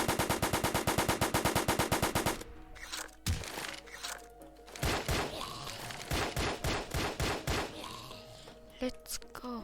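Rapid machine-gun fire in the zombie game Undead Defense Tycoon, starting as a fast, even burst of shots and then turning into irregular volleys and single cracks, loud and close.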